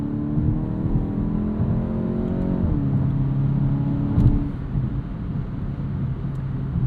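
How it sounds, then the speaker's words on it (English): From inside a 2026 Volkswagen Golf GTI S, the engine pulls hard under acceleration, and a quick dual-clutch gearchange drops the revs sharply before they build again, all loud and close with no talk. "I love a gearbox where the gear changes are so crispy you can feel them in your soul."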